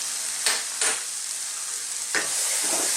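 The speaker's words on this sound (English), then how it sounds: "And we need to cook this, stirring all the time, for about 4 minutes" Mushrooms and beef sizzle in a frying pan while plain flour is stirred through, a constant close hiss punctuated by several sharp scrapes of the spoon.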